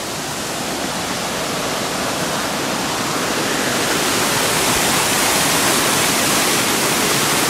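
Water pours over a dam at Dalewood waterworks park, making a loud, steady, broadband roar that holds unbroken from start to finish, with no voices.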